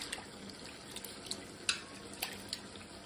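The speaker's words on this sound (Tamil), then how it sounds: "ஒரு வாழைத்தண்டை நல்லா கழுவி ஒத்த ஒத்தையாக எடுத்து கழுவி வைக்கலாம்." Banana stem pieces are rinsed under running water in a home kitchen, with a soft, steady trickle broken by light splashes and small clinks as the pieces are handled.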